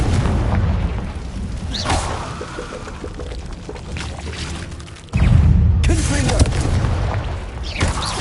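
Confringo fire spell in Hogwarts Legacy, two heavy booming explosion blasts with rumbling tails, the second louder and sharper, amid game ambience.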